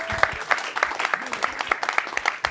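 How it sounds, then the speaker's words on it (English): A small audience at a startup pitch event claps scattered and uneven, individual hand claps audible, with some voices mixed in. "clap if you're from New York"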